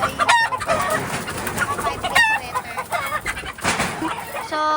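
Hens, pullets from a two-way cross, cluck close by in short, irregular bursts, with a few sharper squawks standing out against a busy farmyard background.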